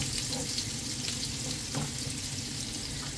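Onions sautéing in a pan for a Filipino bihon and sotanghon stir fry, with a steady, dense sizzle that stays close and fairly loud for the whole short stretch, alone without talk.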